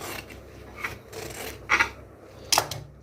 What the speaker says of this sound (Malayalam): ഈ ബാക്ക് പീസിനെ നമുക്കൊന്ന് കട്ട് ചെയ്ത് കൊടുക്കാം.